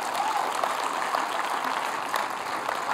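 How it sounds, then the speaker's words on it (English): A church congregation applauding, steady sustained clapping from many hands that fills the room evenly throughout. "give Jesus one big round of applause"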